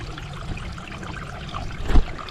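Mountain stream water trickles and rushes steadily near Schrecksee in Germany, a continuous close wash of noise that swells briefly louder near the end.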